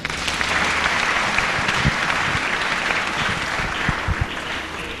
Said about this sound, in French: Acclamons le Seigneur.